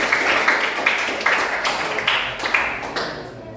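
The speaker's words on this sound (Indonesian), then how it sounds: "Ini tepuk tangan" Clapping for group 2 at a teacher training session, a small group applauding in a room with uneven, scattered claps and a few sharper accents, moderately close and fairly quiet.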